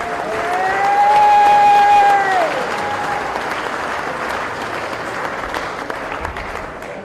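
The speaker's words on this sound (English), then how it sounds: "give these guys a round of applause" An audience at the 2021 Motorcycle Cannonball awards ceremony gives sustained applause, a dense wash of clapping that swells and then tapers, with a brief sustained tone early on.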